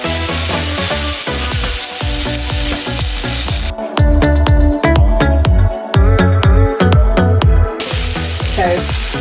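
Chicken and vegetables sizzling in a stir fry pan produce a loud, close, continuous hiss under a rhythmic series of clanking stirring strokes, with no voices.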